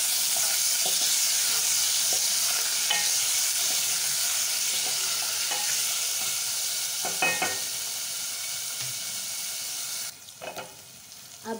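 Ginger garlic paste sizzles in hot oil with cumin seeds for dal, a steady close frying hiss with occasional stirring clicks and scrapes, no talking.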